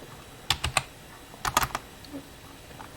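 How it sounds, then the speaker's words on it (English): Short bursts of clicks from a computer keyboard as a command is typed on a Raspberry Pi 4, close and crisp, with quiet pauses between the groups of keystrokes. "I'm going to type in that command that I typed in earlier"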